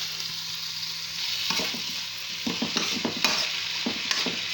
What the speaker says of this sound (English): Just toss it in oil for some few minutes.